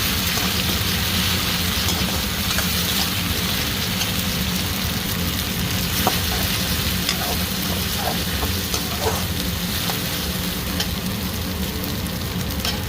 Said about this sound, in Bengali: পেঁয়াজ অর্ধেক ভাজা হয়ে গেছে, এর সাথে ভালো মতো ভাজা হয়ে যাবে দুটো একসাথে, পেঁয়াজও আর আদা রসুনের পেস্টও।